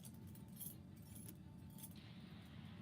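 A collection of car keys, including Ford, Saturn and GM keys, jangles in a steady metallic rustle at close range, brightest near the start and middle, with no talk over it.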